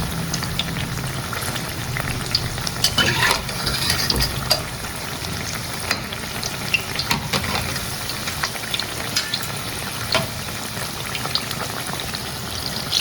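Jackfruit caripori deep-frying in hot oil, a continuous close bubbling sizzle with scattered crackles and pops and faint stirring, no voices.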